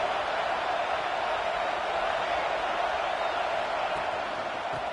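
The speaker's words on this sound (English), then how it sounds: "And here comes the noise. This crowd is trying to inspire this defense to make a big red zone stop." Football stadium crowd roaring to spur the defense toward a red zone stop in a Texas State vs. Georgia playoff game, heard as a loud, steady, unbroken wash of cheering throughout.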